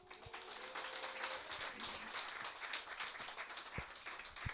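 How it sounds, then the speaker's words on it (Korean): Light, scattered applause from a church congregation at a Sunday afternoon service, soft and somewhat distant, with uneven claps that rise slightly in a final burst. "격려의 박수 부탁드립니다"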